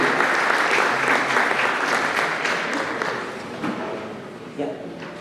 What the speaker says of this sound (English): Let's give them a round of applause for their service to the community.